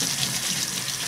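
Warm tap water runs steadily in a continuous rushing stream while a Küchenprofi Compact vegetable slicer is cleaned with a brush. The flow is close and loud, with no speech over it.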